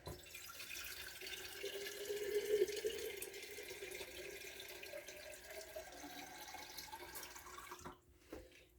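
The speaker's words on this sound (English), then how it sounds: "I'm going to add about a quart or two of water." Tap water runs steadily into a pot for about eight seconds, a close, continuous splashing fill of roughly a quart or two that cuts off near the end, followed by a faint clink.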